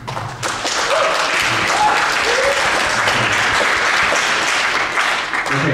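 Audience applause fills a state senate debate in a Harwich High School venue, a dense, sustained wash of many hands clapping loudly and evenly from start to finish.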